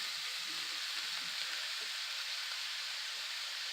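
Ground beef and chopped onion frying in a pan over medium-high heat give a steady, close hiss of sizzling that holds at an even level throughout, with no talking.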